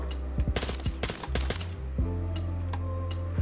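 Rapid bursts of gunfire in Call of Duty MW2, with sharp clustered shots in the first half over a loud steady game hum that continues after the shooting stops.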